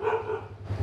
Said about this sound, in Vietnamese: Chó đấy.